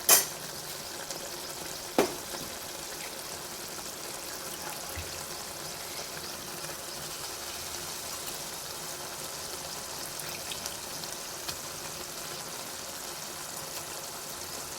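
Tomato curry simmering in a pan with a low, even sizzle and bubbling throughout, a couple of sharp clanks of the stirring spoon near the start, fairly quiet and without talk.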